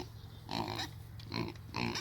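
Pigs on a farm grunting close by in three short bursts over a low background hum, no talk.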